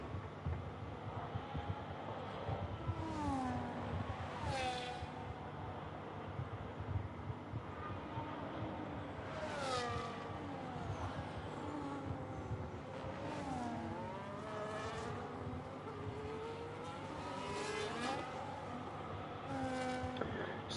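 Race cars lapping the Spain circuit in a sim racing game, faint engine whines rising and falling in pitch as the cars pass through hairpins and fast right-handers, with several passes over about twenty seconds.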